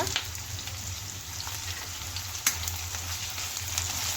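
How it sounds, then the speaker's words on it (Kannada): Onions fry in a pan with curry leaves and coriander leaves for a dosa chutney, making a soft, steady crackling sizzle with a single sharper pop midway and a faint low hum underneath. "ಅದನ್ನು ಇದ್ರ ಜೊತೆಗೆ ಸೇರಿಸ್ಕೊಂಡು ಈರುಳ್ಳಿ ಜೊತೆ ಚೆನ್ನಾಗಿ ಫ್ರೈ ಮಾಡ್ಕೊಳ್ಳೋಣ"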